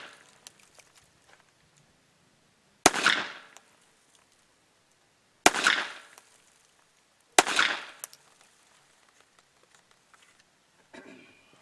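Three sharp, loud pistol shots from a Sig Sauer P365 in .380 being test-fired after repair, spaced a few seconds apart outdoors, each cracking and then trailing off in a short echo, with quiet handling noises between.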